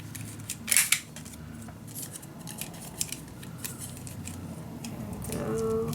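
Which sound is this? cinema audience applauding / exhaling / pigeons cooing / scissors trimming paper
scissors trimming paper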